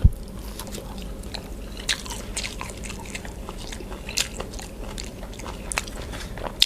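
Close, steady chewing and moist crunching of a ball of sticky rice with pork larb, with occasional sharper bites and no talk.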